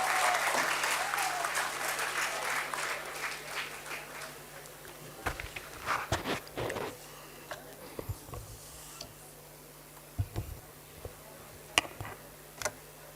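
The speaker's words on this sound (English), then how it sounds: "Can we have a round of applause for the sir?" Audience applause at a college degree certificate distribution ceremony, starting as a dense, fairly loud round of clapping that thins out into scattered individual claps over a steady hum in a large hall.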